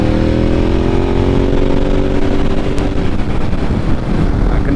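Ducati 1098S motorcycle engine drones steadily while riding, its loud note holding, then dropping into rougher low rumble, with wind noise buffeting the microphone throughout.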